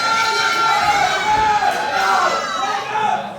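Crowd noise at a live professional wrestling event: a loud, sustained roar of cheering and shouting voices from a large audience, swelling and dipping slightly across the moment.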